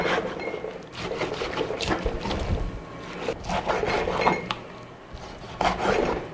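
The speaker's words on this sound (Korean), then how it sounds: "이렇게 길게 썰으시면 썰기가 편합니다" Knife slicing meat into long strips on a board for royal court tteokbokki, with repeated soft scraping and rubbing strokes up close at an uneven pace, no voices.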